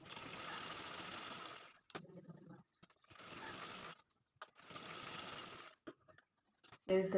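Sewing machine stitching a blouse lining, running in bursts of steady mechanical whirring with short pauses between runs, close and clear.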